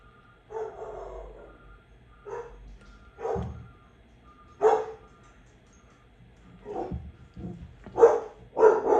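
Dog barking in short, irregular bursts indoors while a truck's reversing beeps sound faintly behind it.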